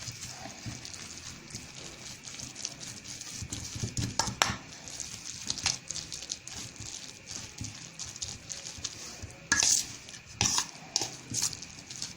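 Egg batter for lachha pakora being stirred and mixed in a bowl, with faint, intermittent wet patting and light clinks against the dish, quiet and without talking.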